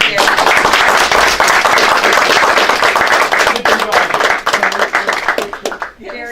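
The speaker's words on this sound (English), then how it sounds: "Can we have a round of applause for Gary?" A room of attendees at a county freeholder meeting gives a loud, sustained round of applause for a retiring staff member, the clapping dense and even before thinning out at the end, with voices mixed in.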